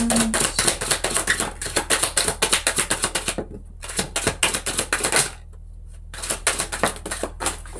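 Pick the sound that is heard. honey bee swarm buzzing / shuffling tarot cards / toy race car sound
shuffling tarot cards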